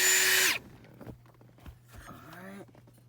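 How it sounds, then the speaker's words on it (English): A power drill whirs loudly for about half a second inside a Gen 1 Acura NSX footwell, then cuts off, followed by a few quieter knocks and a brief low whine. "Be careful you don't drill into the back of the car."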